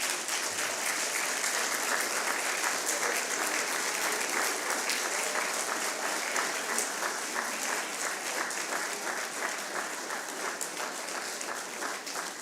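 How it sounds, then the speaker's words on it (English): A graduation crowd gives sustained, loud applause to the supporting families, dense continuous clapping that fills the hall evenly throughout with no talking. "give a great applause to all the people on the black seats which have supported you during that journey"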